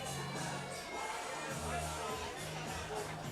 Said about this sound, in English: A good crowd here tonight, though, at Dwyer Stadium.